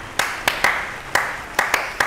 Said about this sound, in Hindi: आपने 4 तरह की डिफरेंट वेरिएशन देखी तालियों की